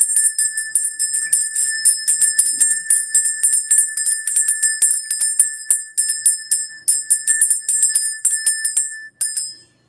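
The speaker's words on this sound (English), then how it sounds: "Get some bell action in here." Small bells jingle and tinkle in rapid, continuous shakes for the full stretch, bright and fairly loud with steady rhythmic pulses and a brief pause near the end.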